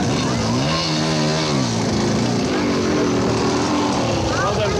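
Racing quad bikes roar toward the finish of the Mafikeng 500 desert race, their engines loud and close with a rising, sweeping whine as they pass, over a constant wash of wind and crowd noise.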